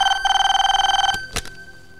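A telephone bell rings loud and close in a rapid trilling burst for just over a second, then cuts off, followed by a couple of brief thumps and quiet.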